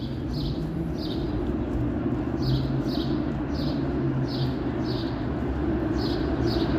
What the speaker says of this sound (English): So quiet here, you can hear the birds chirping.